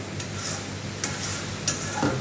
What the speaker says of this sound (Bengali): এবার একটু গরম জল দিয়ে দেবো